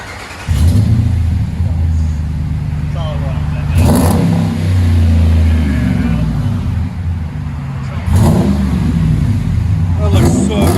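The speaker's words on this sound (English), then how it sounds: "Sounds so good. MAGNAFLOW gives it a really nice deep tone." A 2015 RAM 1500 with the 5.7L HEMI V8 and dual Magnaflow exhaust with 5-inch tips revs loudly and up close, each blip swelling into a deep rumble and settling back to a steady idle, with a voice talking over it.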